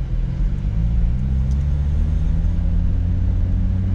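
Honda car driving on a test run after its coil packs were replaced, a steady low engine rumble and road drone that holds close and even throughout, with no voices.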